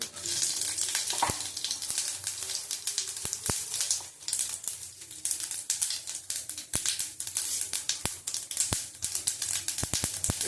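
Mustard seeds and a dried red chili crackle and sizzle in hot oil, with sharp popping spatters scattered over a continuous frying hiss, close and fairly quiet, with no voices.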